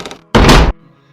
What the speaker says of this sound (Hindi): दरवाज़ा फिर से अचानक अपने आप ही धीरे से बंद हो गया।